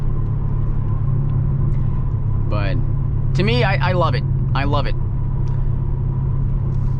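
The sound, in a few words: 2020 Dodge Challenger Scat Pack Widebody exhaust rumble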